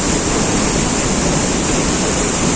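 A steady, loud roar of rushing water from the Saman Dere waterfall in Düzce, constant and unbroken, with no voices.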